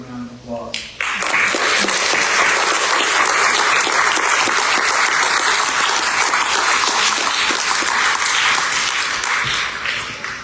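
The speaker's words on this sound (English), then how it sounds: "can we give you a round of applause?" An audience at an anniversary variety show breaks into sustained, loud applause that starts abruptly after a few spoken words and holds steady for about ten seconds before tapering slightly.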